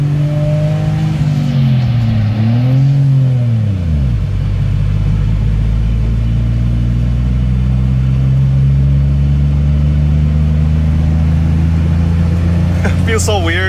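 A right-hand-drive Honda Acty kei truck with little power revs up and accelerates, its small engine rising in pitch and then settling into a loud, steady drone recorded close from inside the cab.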